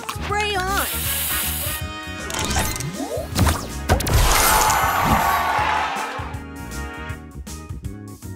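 A spray booster fires in the match-three video game Match Masters, releasing a hissing spray burst with crashing and smashing effects over chirpy game music, while an announcer voice speaks.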